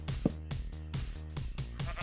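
Sheep in the Minecraft video game bleat several times in quick succession, close and clear, with short wavering calls following one another.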